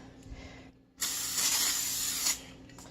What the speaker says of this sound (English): I'm gonna spray it with some Pam.